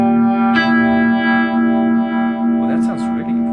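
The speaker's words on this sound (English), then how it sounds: "you can create your own blend between phaser and Univibe" An electric guitar runs through a pedal that blends phaser and Univibe effects, giving a sustained, swirling, distorted chord with a pulsing wash and some picked notes near the end, loud and close.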